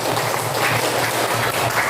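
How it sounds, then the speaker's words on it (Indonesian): Steady clapping from a crowd for a speaker at a teacher-training presentation fills the whole stretch, dense and continuous at an even loudness. "kita berikan tepuk tangan untuk Umi Tika sebelumnya"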